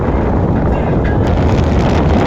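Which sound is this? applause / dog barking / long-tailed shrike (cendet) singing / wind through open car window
wind through open car window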